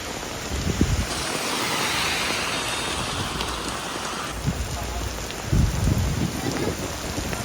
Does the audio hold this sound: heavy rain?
yes